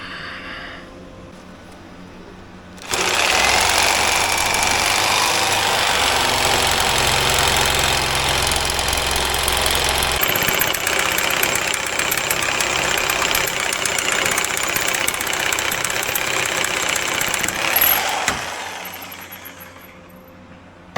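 A power saw fitted with a metal-cutting blade cuts into metal for a trailer jack handle: a loud, harsh grinding whine that starts abruptly, holds steady for about fifteen seconds, then stops, with no talk.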